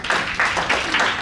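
A small group claps briefly in a room, four soft, evenly spaced bursts of hand claps over about a second.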